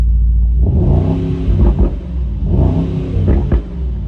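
A 2023 Mercedes-AMG SL63 engine revs twice in close succession, each loud, deep rise of rumbling exhaust falling back to idle.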